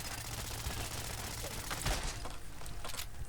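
Rapid, continuous automatic fire from a minigun assault rifle in Fallout 4, a dense unbroken rattle of shots at an extremely high rate, loud and close, with a few heavier bursts standing out throughout.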